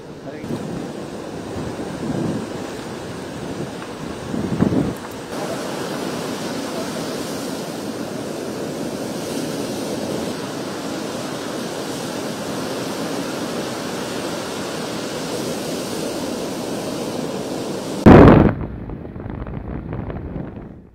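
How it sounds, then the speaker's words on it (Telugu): Storm-driven sea waves surge and crash continuously on the Uppada shore during Cyclone Montha, a loud, steady roar of surf and wind with a sharper burst near the end. "ఇటు ఉప్పాడ తీరంలో అలలు ఎగిసి పడుతున్నాయి"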